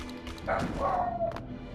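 One drawn-out, yelping bark from a dog, close and moderately loud, against a quiet humming background.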